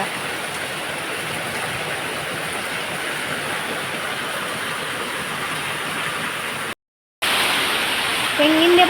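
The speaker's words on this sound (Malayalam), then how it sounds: "നല്ല മഴ നല്ല മഴ" Heavy rain pours in a steady, loud, broadband roar that runs unbroken except for one brief cut, then resumes at full strength with wind.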